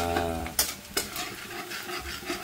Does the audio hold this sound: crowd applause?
no